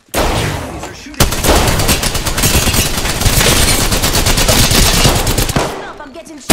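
Sustained automatic gunfire from the Spitfire light machine gun in the shooter game Apex Legends, loud and continuous rapid bursts running for several seconds, with a brief pause near the start and a few muffled voices underneath.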